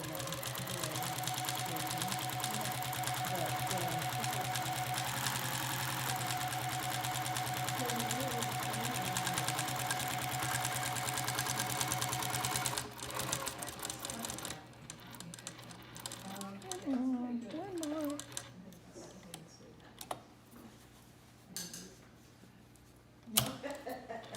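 A sewing machine stitches through a quilt in a steady, fast mechanical whir for about half the clip, then stops and starts in short bursts as the needle is set down to pivot at a corner, with a voice talking over it.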